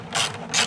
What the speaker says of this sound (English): Then you simply take the 10mm wrench,